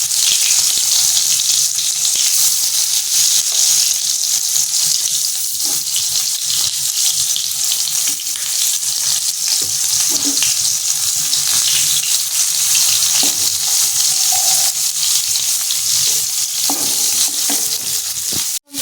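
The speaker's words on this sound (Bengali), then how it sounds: "তরকারির জন্য আলু ফুলকপি ভাজা চলছে" Potatoes and cauliflower frying in a pan as the base for a curry, a loud steady sizzle running throughout with occasional stirring scrapes and clinks, no voices.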